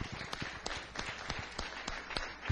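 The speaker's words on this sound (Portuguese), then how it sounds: "Sua melhor salva de palmas ao Senhor Jesus." Congregation in a church service applauding, a scattered, moderately quiet burst of hand claps with uneven rhythm across the short stretch.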